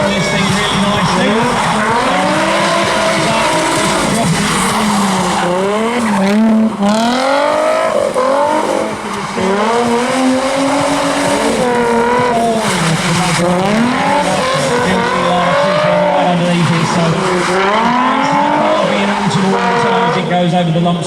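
Car revving hard and skidding through tight circles on a bumpy arena surface at the Bug Jam show, the engine rising and falling continuously with tyre squeal, loud and close, with a commentator talking over it throughout.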